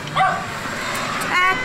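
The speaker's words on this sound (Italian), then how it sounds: "C'è un cane qui che... Già sono spaventato, ci manca il cane." A dog at the entrance of a veterinary clinic gives a couple of short, high yips: one near the start and another near the end, with indoor background noise between them.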